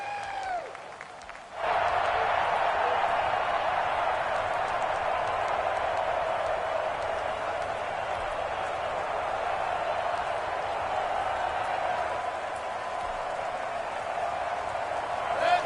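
A football stadium crowd at an NFL Browns game swells into a sustained roar of cheering and applause after a brief quiet start, loud and steady for the rest of the stretch.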